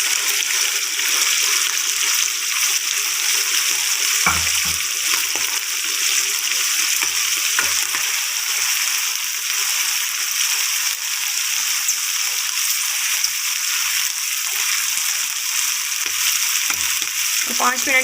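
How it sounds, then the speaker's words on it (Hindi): Small cubes of chicken frying in a pan for a Chinese-style chicken and vegetable biryani, a steady close sizzle and hiss running throughout with a few occasional clinks and stirring bumps. "साथ में ही हम डालेंगे इसमें चिकन छोटे क्यूब्स में कटे हुए।"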